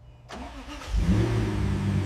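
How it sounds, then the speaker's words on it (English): A Lamborghini Aventador V12, restored after sinking in a river and sitting silent for years, cranks briefly and then catches, settling into a loud, steady, rumbling idle close by. "The heart of the beast, the legendary V12, awakens after years of silence."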